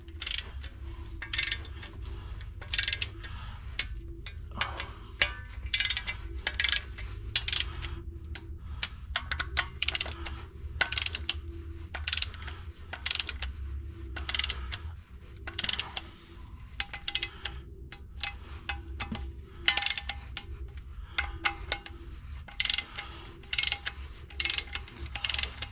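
Torque wrench tightening LS flex plate bolts, a long run of crisp, evenly spaced ratchet clicks in repeated bursts, close and fairly quiet over a low background hum.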